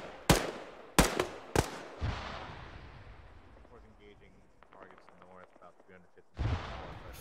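Three sharp, loud gunshots from an M4 rifle crack in quick succession during a firefight in the military video game ArmA 3. A fading echo and low rumble follow, then another burst near the end.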